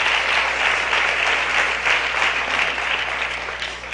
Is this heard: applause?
yes